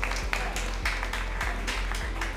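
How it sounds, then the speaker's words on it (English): Audience applause after a 3lb robot combat fight at an NHRL event, a dense steady patter of clapping with a few sharper claps standing out, loud and continuous throughout. "Round of applause for these guys."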